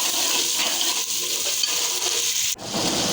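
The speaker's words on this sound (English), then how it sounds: "Saute it for like 5 minutes." Tomato daal masala with red chili powder and a little water sautés in a pan, giving a loud, continuous close-up sizzle with a brief break near the end.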